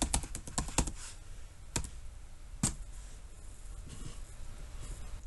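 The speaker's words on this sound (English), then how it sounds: "I'm going to type in the password." Password keystrokes on a computer keyboard, a quick run of sharp close clicks followed by a few isolated taps and a brief pause, with no talking.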